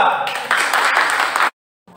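A class claps for a student group about to present, a short burst of brisk clapping that swells briefly then cuts off abruptly into silence.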